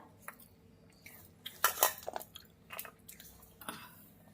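Close, quiet chewing and soft squishy bites while eating rice with bitter gourd, potato and shrimp fry, with a few light clinks of a plate between irregular mouthfuls and no talk.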